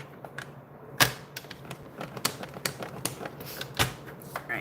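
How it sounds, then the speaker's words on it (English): Scoring tool pressed along paper while making an envelope bag for a craft card project: a rapid series of light, crisp ticks and scrapes, close and quiet, over a steady background hiss. "I'm just going to give it a couple little scores."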